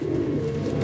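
Soft, low pigeon cooing close by, a brief throaty burble with no voices.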